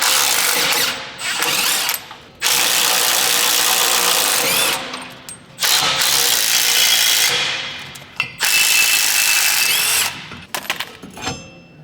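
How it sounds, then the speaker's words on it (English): Power impact tool removing U-bolt nuts from the rear leaf spring plate of a 2023 Colorado truck, loud close whirring and rattling bursts of several seconds each, separated by short pauses. "Then we're gonna go ahead and remove the U-bolts. Here, there's 4 nuts on the bottom of the plate."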